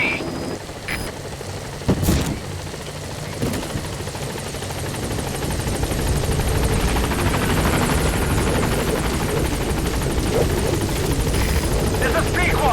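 A helicopter in the Metal Gear Solid V game approaches a landing zone, its steady rotor roar loud and building from the middle onward, with a few sharp thumps and clicks early on.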